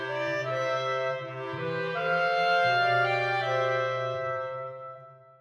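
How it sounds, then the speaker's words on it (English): Three clarinets and a bass clarinet play a sustained chordal harmony in keyboard style, the bass line shifting beneath slowly moving upper voices, clear and alone with no talk. "3 clarinets and a bass clarinet."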